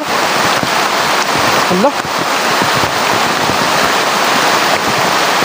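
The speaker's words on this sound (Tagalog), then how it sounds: "Napakalakas kasi ang ulan." Heavy rain falling outdoors, a loud dense wash of hiss that stays steady throughout, with a brief voice cutting through it partway.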